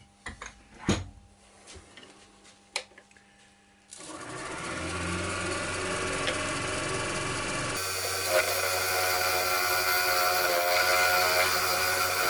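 A lathe turns a natural-edge ash bowl while a skew chisel cuts the shoulders. Scattered knocks and quiet come first, then a steady loud motor hum with cutting noise runs to the end.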